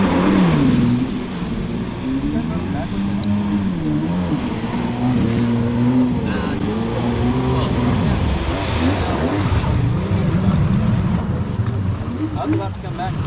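A WaveBlaster jet ski engine runs steadily through the whole stretch, droning with wind and water noise, while people talk over it.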